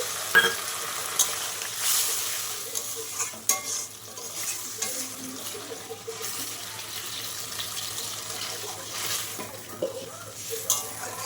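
Water poured into a pan of frying chili chicken, with steady sizzling and stirring noises running throughout at moderate level, broken by occasional sharper clatters, and no talk.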